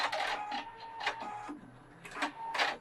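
A Pfaff 710/720 sewing machine works a dense satin stitch in short, close, rhythmic bursts of mechanical chatter, with brief pauses between them.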